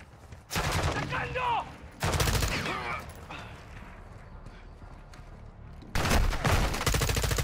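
Modern Warfare 2 gunfire comes in loud rapid automatic bursts, one early, one in the middle and one at the end, with quieter combat sounds between them.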